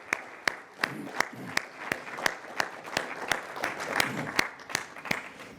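Audience applause for the jury at a youth literary prize ceremony, fairly sparse clapping with a few sharp, distinct claps standing out in a loose rhythm over a softer patter.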